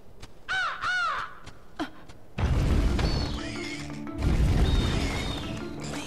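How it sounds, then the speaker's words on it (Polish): Raven in Kingdom Hearts Birth by Sleep giving a few sharp, close caws, followed by loud crashing game sound effects and music. "Jestem prawie pewien, że to jest kruk tej złej czarodziejki z kacza Donalda."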